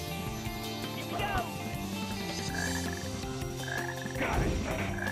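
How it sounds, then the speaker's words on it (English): Frog croaks ring out from the Frog Forest stage of Sonic Heroes on PS2, repeated calls layered over steady game music and ambience, with a brief voice shout partway through. "did you guys hear a croak?"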